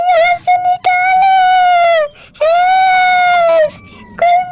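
Loud, close wailing cries in long drawn-out bursts with brief breaks between them, a high sobbing voice rising and falling.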